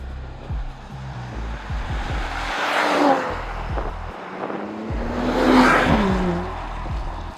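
A Mercedes-AMG GLE53 Coupe's 3-liter turbocharged inline-six revs up twice, rising to a strong throaty swell and easing off between pulls, with rapid crackling bursts at low revs.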